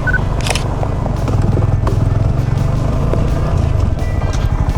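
A Honda Grom motorcycle rides over slippery clay on an overgrown trail, its engine droning loudly and continuously up close with a scraping, labouring tone throughout.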